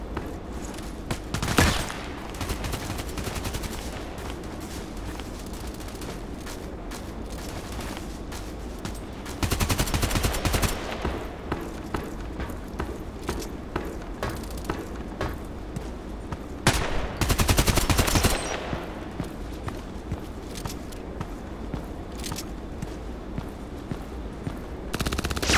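AKMS rifle fire in the video game Contract Wars: repeated bursts of automatic gunfire, some short and some sustained, crack out at intervals across a long stretch of play, loud and sharp over faint background ambience.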